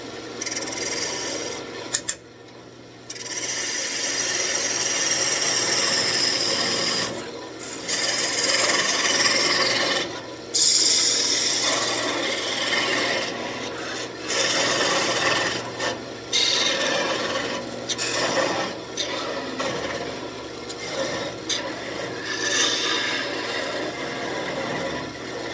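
Walnut rosette shoulder being turned on a wood lathe, a steady close rasping, scraping cut of tool against wood that runs almost continuously, broken by a few short pauses.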